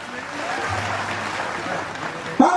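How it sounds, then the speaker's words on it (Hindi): A crowd at a Jharkhand political rally breaks into applause after a call to welcome a guest, clapping steady beneath a speaker's voice on the microphone and swelling sharply at the end. "सो मन जोरदार ताली।"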